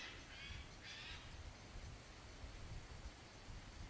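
A small bird calls from the left in a quiet outdoor spot, giving two short, faint bursts of high chirping early on over a low background hiss.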